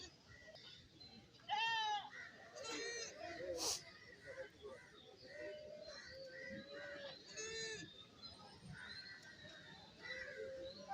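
Several goats bleat at a busy outdoor goat market in Kerala, some calls close and loud, others farther off, with people talking in the background throughout.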